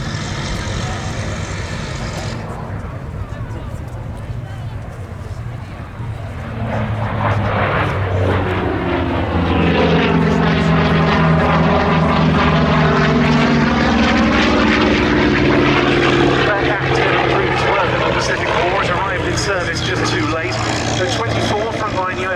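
A Grumman F8F Bearcat piston-engined Navy fighter flies past at the Duxford air show, its loud propeller drone swelling and shifting pitch as it passes, while a voice talks over the engine throughout.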